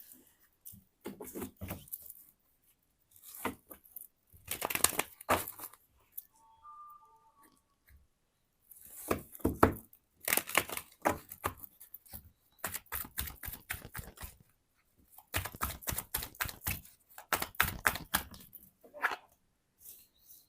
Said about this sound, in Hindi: सबसे पहले मैं आपके कार्ड शफल करती हूँ।